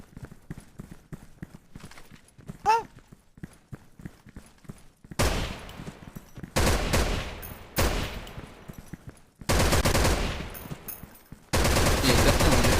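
Gunfire in the online shooter Special Force 2 during a clan war: several loud bursts of automatic fire in rapid succession, each cutting in and out sharply, after a quieter stretch of faint clicks and game noise.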